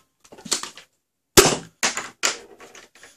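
Nerf Mega blaster shooting a modded half dart, with a sharp loud pop followed by a few more snappy mechanical clacks and shots spaced through the moment.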